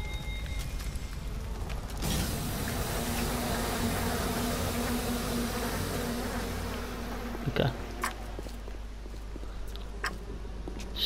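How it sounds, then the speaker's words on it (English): Bees buzz in a video game, a loud, continuous droning swarm that swells after two seconds and carries on throughout, with a few clicks and knocks near the end. "Yeah, and the bees are back."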